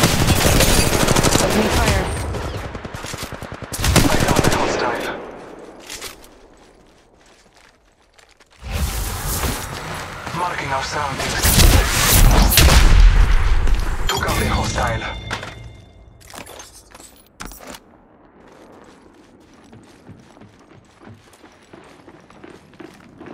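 Video game combat with loud bursts of rapid automatic gunfire and mechanical clatter, broken by quieter gaps, while a player talks over the action.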